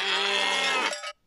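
A cartoonish animal call for a cow sounds in a children's clay-modelling toy video, a single loud, bright, bleating moo lasting about a second before cutting off abruptly.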